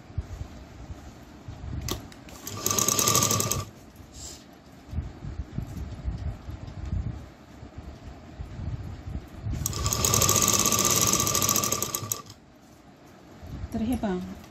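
A sewing machine stitches a fabric strip beside a zipper. Two loud, steady whirring runs of a few seconds each come close up, and handling sounds and a voice fill the quieter gaps between them.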